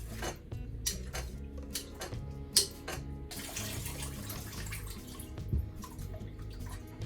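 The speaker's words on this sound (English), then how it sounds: "The next thing to do for this is to wash it out to get all the salt off" Tap water runs and splashes while salted vegetables are rinsed in a sink, with clinks and a few knocks mixed in, steady and close.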